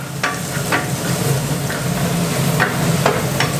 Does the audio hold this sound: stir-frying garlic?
yes